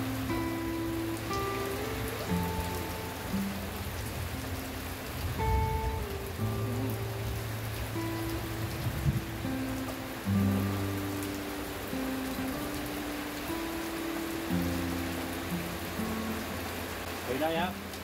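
Steady rain patters throughout, a constant wash of falling drops with low hum and occasional muffled voices underneath.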